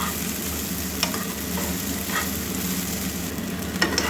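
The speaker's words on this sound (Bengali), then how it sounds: "এবার এটাকে আমি ভালো করে নাড়াচাড়া করে নিই" Sabudana is stirred for khichdi in a frying pan over a steady, loud oily sizzle, with occasional scrapes of a spatula against the pan, close up and with no talking.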